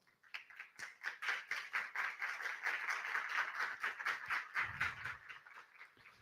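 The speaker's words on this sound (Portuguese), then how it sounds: "Salva de palmas." An audience at an entrepreneurship and investor event claps to welcome an angel investor. The clapping is fairly quiet and distant, with distinct, loosely rhythmic hand claps that build quickly and hold steady.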